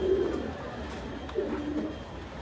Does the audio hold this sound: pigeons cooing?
yes